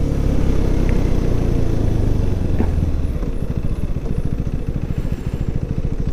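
A 2024 KTM Duke 390 motorcycle rides along in third gear, its engine a loud, steady, close rumble with a pulsing throb and wind noise throughout.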